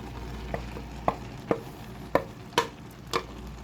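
Pancit canton noodles and vegetables are stirred in a frying pan, with six or so distinct scraping, clacking stir strokes at a steady rhythm over a soft, continuous sizzle, close and fairly quiet.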